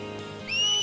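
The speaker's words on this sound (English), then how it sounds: "In 17 years, Yuna has never heard anyone whistle, apparently." Someone whistles in a Final Fantasy X video game cutscene: a single short, bright rising whistle breaks in sharply halfway through a quiet, low ambient background.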